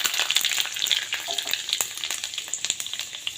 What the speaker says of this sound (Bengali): কড়াইতে তেল দিয়ে দিয়েছি, আর এখন দিয়ে দেবো কড়াইতে দুটো তেজপাতা, আর দিয়ে দেবো কিছুটা পাঁচফোড়ন।